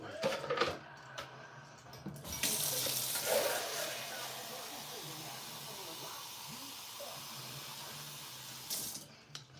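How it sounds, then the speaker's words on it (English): Water poured into a countertop ice maker makes a steady, fairly loud hissing rush that runs for several seconds after a brief voice, then stops abruptly near the end. "I'll pour a little water in here."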